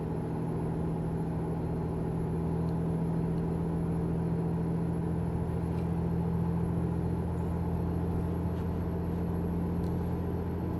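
A truck engine in American Truck Simulator drones steadily at a low, even pitch for about eleven seconds, a constant hum with no clear rise, heard alone without talk.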